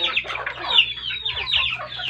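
Chickens clucking close by near their damaged coop, a busy overlapping run of short clucks and squawks with no pause, and no talk over them.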